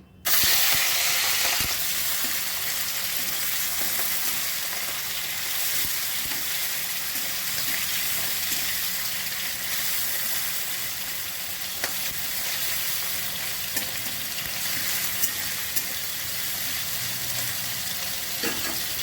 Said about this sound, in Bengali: এটা সর্ষের তেলে হবে প্রথমে চিংড়ি মাছগুলো ভেজে দিচ্ছি